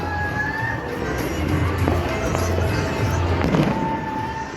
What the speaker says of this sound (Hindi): यहाँ देखो वहीं वहीं गुंजायमान पटाखों का गुंजन।